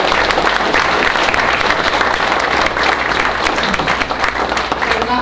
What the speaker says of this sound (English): So maybe a wee round of applause